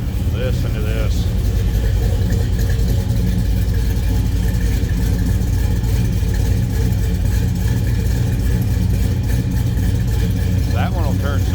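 A 1971 Chevrolet Malibu convertible with a 383 stroker V8 rumbles loudly and steadily up close, its deep engine note holding throughout.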